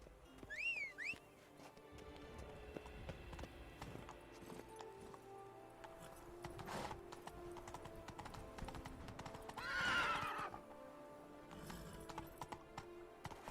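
Geralt's horse Roach moves through Toussaint in The Witcher 3, with rhythmic hoofbeats, a brief whinny near the start and game ambience, music and effects layered around them at a fairly low level.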